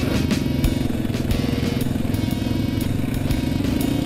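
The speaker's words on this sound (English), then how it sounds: "I sure hate to have to full start a 400cc engine all the time." A 400cc motorcycle engine runs steadily with a rough, rumbling idle and rhythmic rattling ticks, loud and close throughout.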